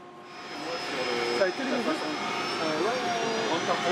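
Engines of an ATR-42 research aircraft give a steady drone throughout, with a voice speaking over the engine noise.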